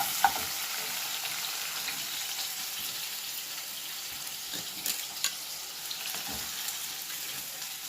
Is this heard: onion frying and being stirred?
yes